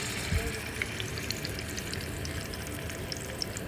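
Colombo fish sizzles in hot oil in a frying pan during village-style rooftop cooking, a steady close hiss with no talking.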